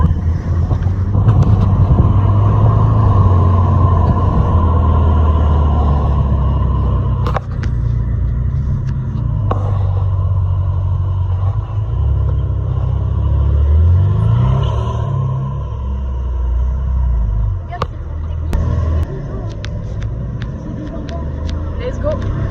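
Ferrari 458, Ferrari F8 and Porsche Carrera sports cars rumble past during a car event on the Col du Galibier, a steady loud low engine drone with wind buffeting and a voice talking over it.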